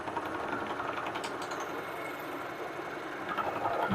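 Vintage metal lathe taking an aggressive cut, a steady, dense mechanical whir and grinding chatter running loud and unbroken for the whole stretch, with no talk over it.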